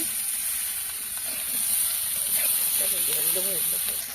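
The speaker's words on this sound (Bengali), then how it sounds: "কচুটা আমি ভালো করে কষিয়ে নিচ্ছি" Taro (kochu) is stir-fried in a pan, making a steady sizzle and hiss with scraping stir strokes and a faint voice underneath.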